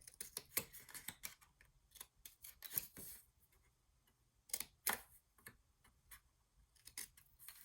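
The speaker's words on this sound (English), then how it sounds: "I'm gonna go ahead and cut this" Paper being cut with scissors while making a mini album: scattered crisp snips and short cutting strokes, close and fairly quiet, in irregular bursts with pauses between, no talking.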